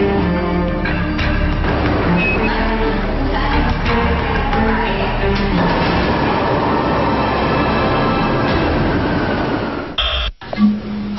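MRT metro train rumbling loudly overhead in Metro Manila, a sustained roar with rattling wheel noise that fades and cuts off near the end.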